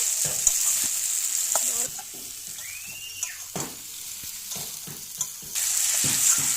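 Prawns are stir-fried in a pan for a potol chingri curry, with a steady bright sizzle and repeated scraping stirs of the spatula. No one speaks.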